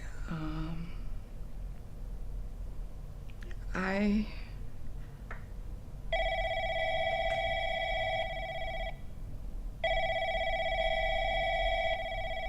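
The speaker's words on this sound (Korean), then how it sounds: "이번에 걸려오는 전화가 혹시나 아까와 같은 도움을 요청하는 사람들일지 모른다는 사실에 이들은 쉽게 전화를 받지 못하며" Telephone ringing with an incoming call in a horror film, two long electronic rings separated by a short pause, heard over a low room hum after a few faint vocal sounds.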